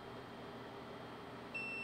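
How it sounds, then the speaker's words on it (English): An ice fishing line alarm gives a sudden thin electronic beep near the end, sounding alone over a faint steady background hiss. "there's already a fish on the line alarm"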